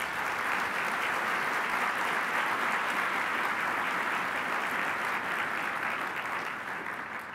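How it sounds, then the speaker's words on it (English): At a King County Bar Association Martin Luther King Jr. luncheon, the room applauds the sponsors with steady, full clapping from a large crowd that tapers slightly near the end. "A round of applause for all the sponsors that we have today."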